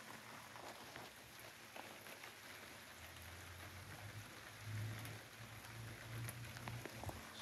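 Night rain falls steadily outdoors, a soft even patter that swells slightly midway and continues alone at low volume.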